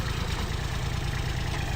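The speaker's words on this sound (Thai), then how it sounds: "เสียงเครื่องเดินเงียบนะครับ วาวก็ไม่ดังครับ" A used Kubota L3408 tractor engine idling, a steady low diesel chug with an even pulsing rhythm, close, loud and continuous with no talk over it.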